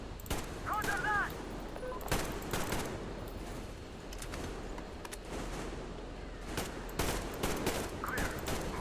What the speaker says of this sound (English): Covering fire on the colonel. No saving ammo.